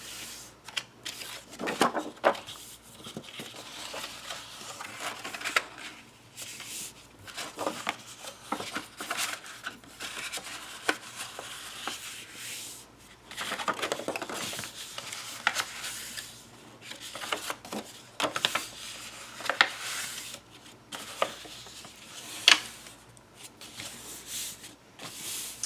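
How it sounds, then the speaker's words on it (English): Paper being folded along score lines for a handmade embellishment book box, heard as soft creasing, rubbing and rustling in irregular bursts, close and fairly quiet, with no talking. "Now we're going to fold those score lines."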